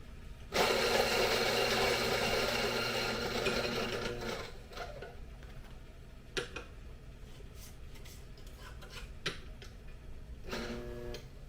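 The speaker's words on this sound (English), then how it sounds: "the first thing I'll do is purge my grinder with a couple of beans" A coffee grinder purges a couple of beans with a loud, close whirring burst lasting about four seconds, followed by quieter taps and clicks.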